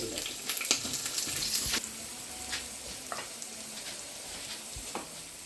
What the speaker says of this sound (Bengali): টমেটো চাটনিতে একটু ভাজিয়া দিলাম